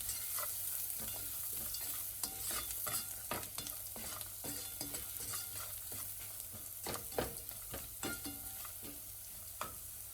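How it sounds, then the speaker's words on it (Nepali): Onions fry and sizzle in a pan with salt and turmeric for a Nepali palak chicken curry, while a utensil repeatedly scrapes and stirs through them in irregular clatters; close and steady, with no talking. "अब यतिको भइसकेपछि नुन र बेसारलाई राख्ने अनि यसलाई यसरी चलाइदिने।"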